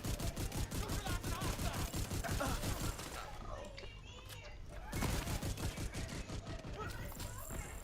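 Rapid automatic gunfire in a multiplayer shooter video game, dense bursts of shots that drop off briefly midway then resume, loud and continuous with no voices over it.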